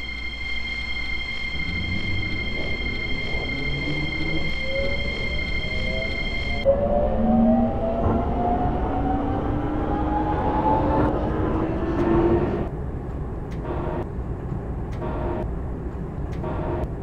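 Seoul Metro Line 1 train running through a curve, steady rumbling wheels with rising squeals and screeching pitches building then fading, heard from inside the carriage after a steady tone cuts off.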